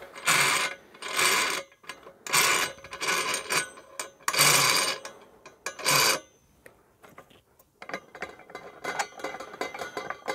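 Part of a telescope mount is unscrewed from its tripod, giving close rasping, grinding bursts of threads and metal turning, several short rhythmic passes followed by quieter scraping and handling.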